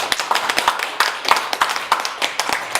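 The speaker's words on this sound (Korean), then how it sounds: "박수 한번 좀 내주세요." A small indoor audience claps at a seminar, a brisk burst of scattered hand claps lasting a few seconds at moderate volume.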